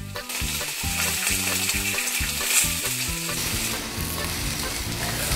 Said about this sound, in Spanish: vamos a picar la cebolla al ajo, vamos a poner a sofreír